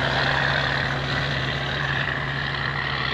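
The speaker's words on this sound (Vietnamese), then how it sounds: "Tiếng máy động cơ Cumin nó có đặc trưng riêng của nó các bạn." A Cummins diesel engine drives a large, heavily laden self-propelled sand barge, a steady loud low droning rumble with a constant hum, running alone without talk.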